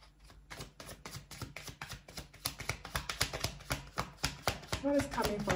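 Rapid papery riffling and tapping of tarot cards being shuffled, a steady rhythmic patter of soft clicks close by, with a brief voice near the end.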